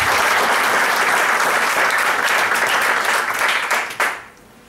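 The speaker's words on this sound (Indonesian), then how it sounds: "Tepuk tangan ya." Loud, dense applause from an audience at a talk fills the clip steadily for about four seconds, then cuts off and fades to near silence.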